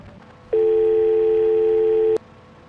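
A steady electronic telephone tone sounds during a brief phone call, loud and constant for under two seconds, then cuts off abruptly with a click, with faint background noise before and after.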